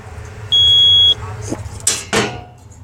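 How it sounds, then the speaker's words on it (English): A payphone in Geelong gives a steady electronic dial tone, a single loud sustained beep lasting about half a second, followed by handset clicks and clunks. "Dial tone."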